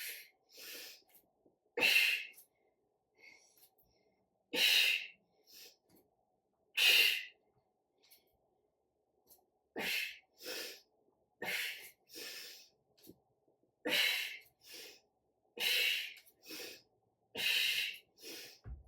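Loud, forceful breaths repeated at a steady rhythm, sharp exhales and inhales close to the mic, with near silence between them.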